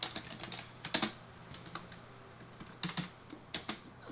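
Code is typed on a computer keyboard in short irregular bursts of light clicking keystrokes with pauses between, quiet and close, with no speech.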